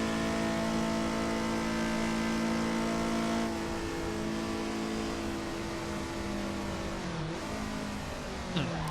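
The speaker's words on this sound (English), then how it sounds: "Is that the Citroen 2CV?" Engine of a Citroen 2CV in the racing game Assetto Corsa, a steady mid-pitched drone with layered harmonics holding fairly constant, then dipping and rising briefly near the end, moderately loud with no voices.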